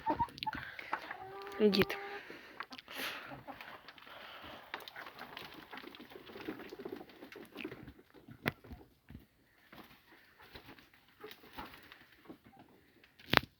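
Chickens on a farm, being let out to graze, cluck and murmur softly at a distance, with scattered footsteps and rustling around them and a few brief voices.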